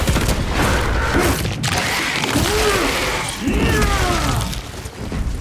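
A frag grenade goes off in Warhammer 40K Space Marine 2, a loud sustained blast and clatter of combat noise amid dense gunfire and mechanical battle sounds throughout.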